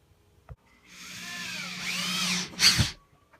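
A power drill bores up into a ceiling to mount a surfboard rack. After a small knock, the motor whines up close for about two seconds and its pitch sweeps as the bit bites, ending in a louder clunk and a brief burst.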